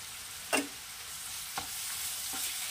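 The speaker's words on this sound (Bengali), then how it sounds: "এটাও ভাজবো, কাঁচা গন্ধটা যাতে না থাকে, ঠিক সেইটুকুই।" Ginger garlic paste fries quietly in a pan, a soft steady sizzle broken by about three brief stirring scrapes; no one speaks.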